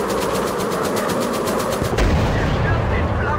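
Rapid machine gun fire from World War I fighter planes in the VR game Warplanes: WW1 Fighters, a steady fast stutter of shots over engine drone that stops abruptly, giving way to a rumbling roar.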